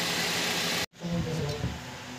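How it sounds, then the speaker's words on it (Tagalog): Idling engine of a Toyota RAV4 with a worn engine support, a steady close rumble cut by a brief dropout, then resuming with uneven low knocking and shaking. "Ang alog ng makina"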